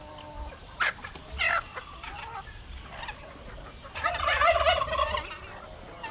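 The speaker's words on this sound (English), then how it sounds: "I just threw some apples our chickens are eating this morning." Chickens inside a farm coop pecking at apples, with several close clucks and gobbling calls in short bursts, including a louder, busier stretch of overlapping calls toward the end over a quiet background.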